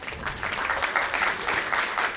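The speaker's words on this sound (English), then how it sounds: "we should all give him a round of applause" A room full of people clapping steadily for a couple of seconds, a dense, even patter of applause with no talking.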